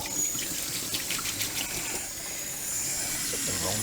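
Water runs steadily from a tap, a constant close rush and splash throughout, with a faint voice briefly underneath.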